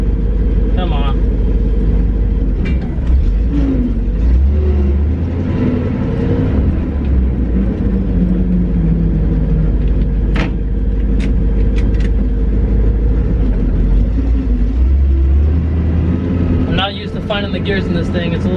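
A 1966 International Loadstar 1600 truck rumbles loudly as it drives, its engine note dipping and rising through gear changes, with occasional clunks. Someone talks over the steady engine noise.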